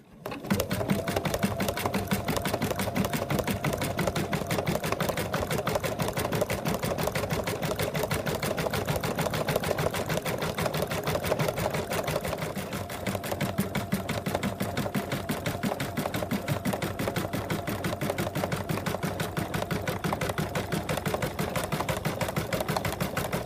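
An embroidery machine sews a satin stitch around an appliqué muzzle in an unbroken, rapid mechanical chatter that holds steady and loud for over twenty seconds without pause.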